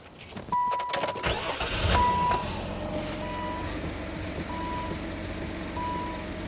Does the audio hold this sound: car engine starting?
yes